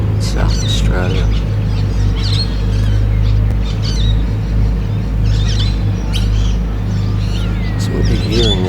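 Birds chirp and call at a riverfront in Morgan, South Australia, with scattered bright tweets and squawks over a loud, constant low rumble of wind or engine noise.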